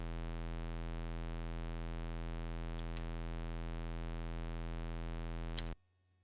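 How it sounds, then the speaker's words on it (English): A constant buzzy electronic drone standing in for the engine in Flight Simulator II on an Apple II, steady and unchanging in pitch for several seconds before cutting off abruptly. "I might have to turn that off because that is just a droning sound most of the time"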